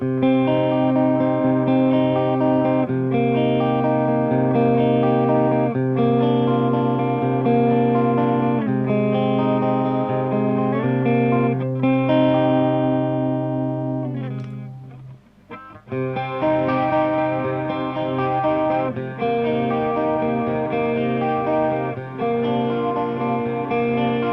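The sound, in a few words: chorus pedal on clean electric guitar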